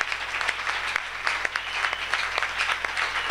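A church congregation at a Thursday worship service bursts into applause, a dense, lively patter of many hands clapping with small rhythmic surges, steady and fairly close throughout.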